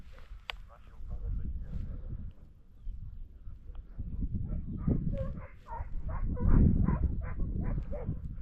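A hunting dog barks and yelps repeatedly during a hunt for a predator, sharp calls in quick runs over outdoor ambience and bursts of human talk.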